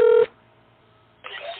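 A telephone number dialed with DTMF keypad tones, a short run of loud beeps, then a pause before a voice begins.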